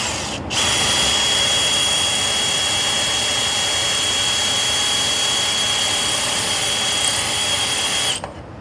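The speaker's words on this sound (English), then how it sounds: "take your drill with a 1/4 inch, go right here in the center" A power drill fitted with a 1/4 inch bit bores into the center of rivets on a van trailer base rail plate, running as one loud, steady whine for about eight seconds and stopping abruptly.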